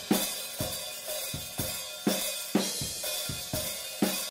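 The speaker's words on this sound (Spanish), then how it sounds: "Vamos a escuchar estos overheads." Drum overhead microphones from a mix carry a steady groove of sharp cymbal and snare hits, about two per second, bright and roomy at a moderate level with no voices.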